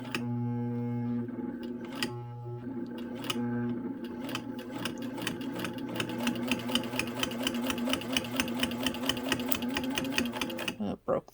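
A 1934 Singer 15-91 sewing machine runs close by in a steady mechanical whir that starts and stops, then speeds into a fast, even stitching rattle.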